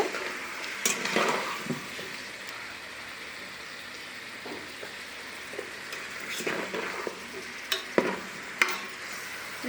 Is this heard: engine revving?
no